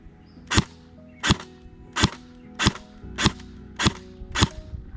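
A CYMA AK-105 (CM040D) airsoft electric rifle, new out of the box, fired single shots: seven sharp snapping cracks at an even pace about 0.7 seconds apart, close and loud against a faint mechanical hum.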